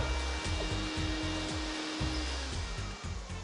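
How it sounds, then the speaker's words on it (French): A household vacuum cleaner runs steadily and fairly loud, its motor drone holding a constant pitch with a rhythmic low pulsing underneath, close by and with no voices over it. "tu passes très bien l'aspirateur"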